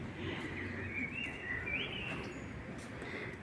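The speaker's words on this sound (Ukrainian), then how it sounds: "Пташечки нам співають." Faint birdsong drifts in from a distance on a street in Kraków: a few thin whistled notes over a quiet outdoor hum.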